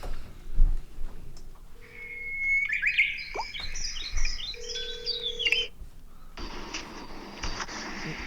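A telephone dials out to place a call, with a quick run of electronic tones and beeps followed by ringback-like buzzing, heard clearly with no talking over it.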